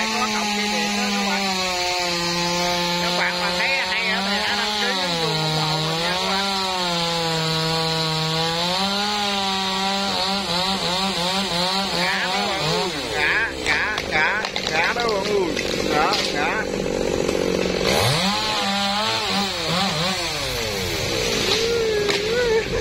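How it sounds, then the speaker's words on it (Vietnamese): A chainsaw cutting down a tree stump near power lines, its engine droning loud and steady with wavering pitch as it bites into the wood, then revving and sputtering toward the end. "Rồi chủ mình chơi lấy máy cưa hạ gốc luôn à"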